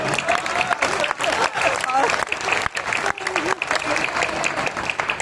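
Audience at a Hindi comic poetry gathering claps in a sustained, patchy wave of applause, moderately loud and close, with a voice speaking over it in places.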